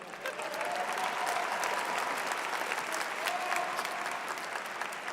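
A large audience applauds at a university winter commencement ceremony, sustained and dense clapping filling the hall at an even level throughout.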